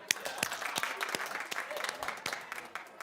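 Studio audience of a celebrity gossip talk show clapping, sparse and uneven hand claps that sound moderately close, with a voice speaking over part of it.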